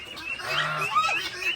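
Ducks being fed in the evening keep up a steady run of nearby honking, nasal calls, with no talking.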